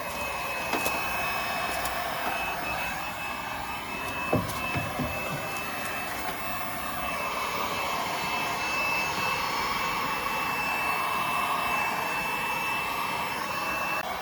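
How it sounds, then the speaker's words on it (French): A small heat gun blows steadily while heating an insulation panel inside a Peugeot 206 car, a constant close whirring hiss of fan and air with a few faint knocks and clicks, no talk. "Là, je chauffe avec le petit décapeur, là, histoire de que la plaque isolante elle adhère correctement au support."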